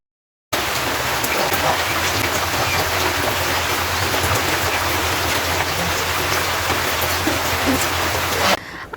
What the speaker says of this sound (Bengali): বৃষ্টি যে হচ্ছে এটা বৃষ্টির শব্দ শুনলেই আপনারা বুঝতে পারবেন